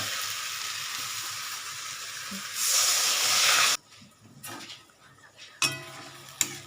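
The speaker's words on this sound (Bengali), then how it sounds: "এই দিকটা এবার আমি কী করবো জল দিয়ে দেবো" Water is poured onto potatoes frying in a pan, a loud burst of hissing steam that cuts off abruptly, followed by quieter clinks and a couple of sharp utensil knocks.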